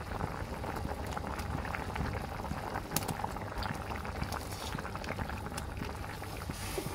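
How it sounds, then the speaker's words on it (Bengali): Dal lentils boiling in water in a pot at home, giving a steady, close bubbling and popping that keeps up throughout with no one talking. "দেখেন ডালটা ভালোভাবে ফুটে গিয়েছে।"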